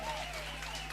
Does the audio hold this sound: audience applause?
yes